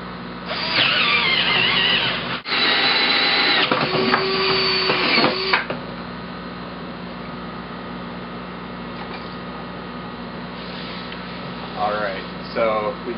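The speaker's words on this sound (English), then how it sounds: "I'm going to go ahead and cut those out right now with my 3-inch hole saw" A 3-inch hole saw on a drill bores holes for net pots in an aeroponics container, giving two loud, steady grinding bursts in the first five seconds, followed by quieter handling noises and faint clicks near the end.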